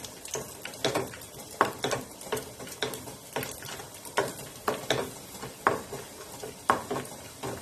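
Raisins fry in a pan alongside cashews for a Malabar unnakaya, with a soft sizzle under a regular rhythm of a spoon scraping and stirring, close by and unaccompanied by speech.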